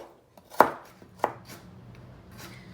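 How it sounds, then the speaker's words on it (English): A kitchen knife chops vegetables such as carrots on a cutting board for a summer side salad: two sharp, close chops, then a few softer taps and light rustling in a quiet room. "I just find my peace chopping veggies"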